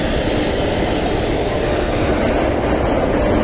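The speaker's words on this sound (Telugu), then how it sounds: "సో ఈ ట్రైన్ చూద్దాం అనమాట" A passenger train runs past close by near Falaknuma in Hyderabad, a loud, continuous rumble of wheels on rails with a steady roar throughout and no speech.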